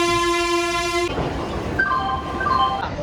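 A train at a railway station sounds its horn in a loud sustained blast, then the rumble and clatter of rail cars carry on, with a fainter second horn tone following.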